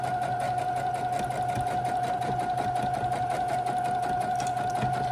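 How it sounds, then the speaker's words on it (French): Steady, close whirring of a sewing machine stitching the bottom of a zipped pocket on a shoulder bag, running without pause and without talk. "je couds le bas de ma poche."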